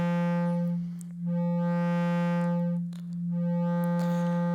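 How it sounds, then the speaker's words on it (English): Filter self-oscillation from a Joranalogue Collide 4 synthesizer module, shaped from a sine into a square wave: a loud, steady buzzy tone with strong harmonics, its brightness sweeping in slow waves and briefly dipping twice. "now we just have the self-oscillation of the filter, sine wave. We shape that into square wave."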